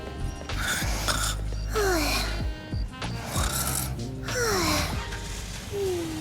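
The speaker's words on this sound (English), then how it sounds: "Heavy snoring from the passenger seat" Heavy snoring from a passenger seat in the game Neverness to Everness: loud, rasping snores in repeated drawn-out cycles, with gurgling throat noises and brief pauses between breaths, close and dominant.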